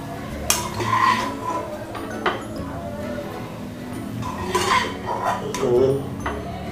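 Dishes and utensils clink as freshly fried, spicy restaurant-style chicken 65 is taken off the gas and served onto a plate, with a few sharp clinks over a steady kitchen background and some talking.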